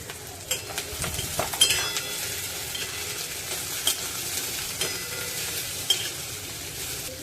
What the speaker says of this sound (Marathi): लगेचच कांद्यामध्ये चार पाच पाकळ्या लसणाच्या टेचून घातलेल्या आहेत आणि चार मिरच्या कापून घालूया